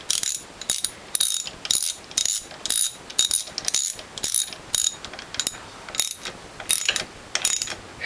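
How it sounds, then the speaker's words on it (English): A torque wrench ratchets loudly and rhythmically, close up, as bolts are tightened down on a Norwalk 280 model juicer with a mushroomed piston fix. Quick bursts of clicking repeat over and over with brief pauses between strokes. "I'm going to use a torque wrench to get this down."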